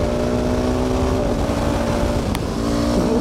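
A supermoto motorcycle engine drones steadily at high, constant volume with strong harmonic tones, pulling hard under acceleration and close to the microphone, with a brief sharp click near the end.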